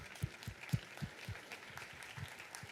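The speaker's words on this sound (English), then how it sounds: "Please stand and be applauded by your peers." Scattered, faint applause from conference attendees at an HR keynote, a sparse smattering of distant claps with uneven rhythm and no voices over it.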